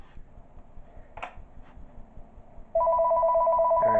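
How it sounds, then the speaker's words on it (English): A telephone rings inside the horror game Five Nights at Chuck E. Cheese's Revived, a steady electronic ring that starts loud after a few seconds of quiet ambient hum and faint room noise. "Alright, so we have a phone call."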